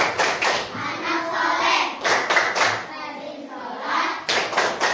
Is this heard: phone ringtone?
no